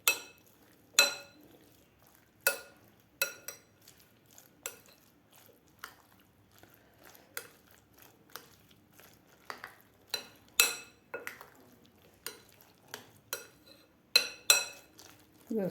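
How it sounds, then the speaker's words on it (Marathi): A spoon mixes Maggi noodles, egg and salt in a bowl, sharp clinks and scrapes against the bowl landing irregularly, close and fairly quiet, with no talking. "आता आपल्याला हे व्यवस्थित मिक्स करून घ्यायचं आहे."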